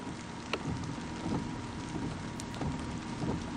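Heavy pouring rain drumming on a car roof, heard from inside the car as a steady dense wash with occasional louder drop hits, fairly faint and constant, no talking.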